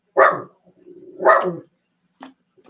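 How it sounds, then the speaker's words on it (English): A dog barks loudly nearby, two strong barks about a second apart with softer grumbling between them, followed by a couple of faint short yips. "that's my dog barking"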